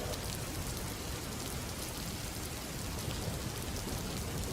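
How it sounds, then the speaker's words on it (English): Heavy rain falls in a dense, steady hiss at a constant level throughout, with no distinct drops standing out and no voices. "It rained like hell."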